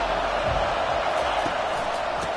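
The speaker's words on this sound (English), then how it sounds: "listen to this crowd roar" A packed football stadium crowd roars in a steady, dense wall of noise from start to finish.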